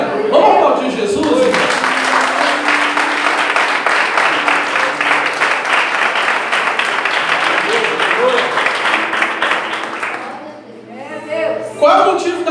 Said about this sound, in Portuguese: Vamos aplaudir Jesus?